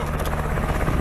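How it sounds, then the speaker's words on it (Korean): A US Army Black Hawk transport helicopter comes in to land, its rotor beating as a loud, close, continuous chopping roar. "미 육군의 수송헬기 블랙호크가 흙먼지를 일으키며 내려앉자"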